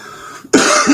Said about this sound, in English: Trying to cough and get it over with.